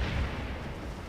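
Massed cannon fire in the war game Scourge of War, heard as a dense, continuous low rumble of booms blending into one sustained roar.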